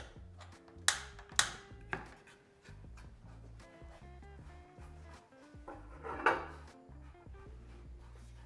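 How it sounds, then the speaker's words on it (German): A frying pan and a gas stove are taken out while cooking outdoors: faint clinks and a couple of sharp metallic knocks, then soft rummaging and handling noises. "Ich hole schon mal die Pfanne raus und den Gaskocher."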